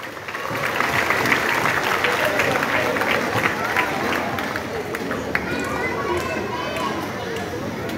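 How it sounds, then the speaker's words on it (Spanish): An audience at a town fair's dance festival in Olintla applauds the musicians, dense sustained clapping mixed with crowd chatter and children's voices, loud and continuous throughout. "¡Fuerte el aplauso para ellos!"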